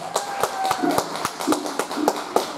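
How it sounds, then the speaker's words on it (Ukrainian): Audience applause for performers coming on stage at an arts and talent festival, a small group clapping in sparse, distinct claps, fairly close, with faint voices and stage sounds underneath. "Тож підтримаємо аплодисментами."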